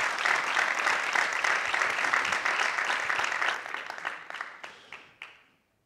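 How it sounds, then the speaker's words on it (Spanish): A crowd at a football club's player presentation bursts into loud, dense applause that holds steady, then thins to scattered claps and fades out. "Ese fuerte aplauso para nuestra leyenda"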